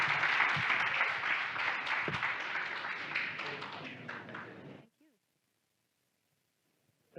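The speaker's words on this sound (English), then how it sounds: "round of applause for them." A conference audience applauds a journalism panel with dense, sustained clapping for nearly five seconds, then it cuts off sharply into near silence with a faint trace of sound at the very end.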